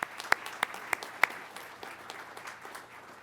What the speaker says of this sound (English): Please, a round of applause for all of our support personnel on base